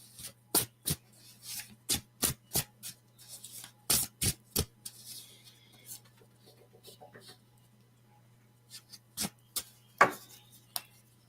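Cards are shuffled in quick crisp riffles and taps, a burst of sharp clicks, a pause, then a few more snaps close by.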